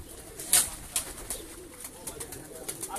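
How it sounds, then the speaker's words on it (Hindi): Breeder pigeons, a home-bred cross of goldens and pearls, coo on a rooftop loft, with soft repeated calls and one sharper note near the start over quiet background. "बहुत अच्छे शानदार कबूतर हैं।"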